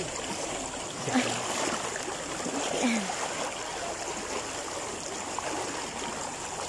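People wade across a fast, fairly deep mountain river in Lambunao, with steady rushing stream water filling the scene at close range and faint splashing, and no talk.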